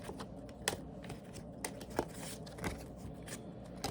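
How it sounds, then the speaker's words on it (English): Cards being shuffled close by, with repeated riffling bursts and soft flicks, followed by the snap of cards being squared against each other. "if you don't like the shuffling, you can speed ahead."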